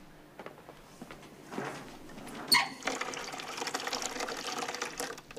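Tap water runs into an electric kettle, starting as a faint trickle and swelling into a steady rushing fill after a brief clunk, with no talking.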